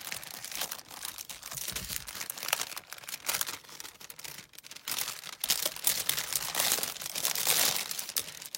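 Decorative paper is handled, crinkled and rustled up close in a steady run of crisp crackles and rustles that swell and fade over several seconds, with no voices.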